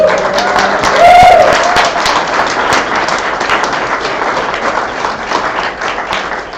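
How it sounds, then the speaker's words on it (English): Audience applause at a Libertarian convention mixer in California, a steady wash of clapping from a crowd with some voices and cheers mixed in, fairly loud and sustained throughout. "Give another round of applause, please."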